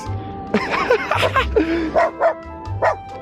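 A dog, Eevee, gives a run of short, sharp barks and yips close by, several bursts in quick succession with brief gaps, with little else in the background.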